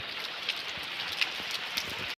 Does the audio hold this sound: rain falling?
yes